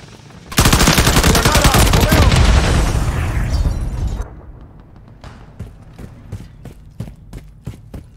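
Loud, close automatic gunfire from Call of Duty: Modern Warfare III erupts in a dense sustained burst lasting a few seconds, followed by scattered sharper single shots and clicks at irregular intervals.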